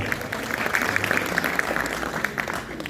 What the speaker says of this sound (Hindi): JCL 2 की चैंपियन जक्कर के लिए जोरदार तालियां बजाएं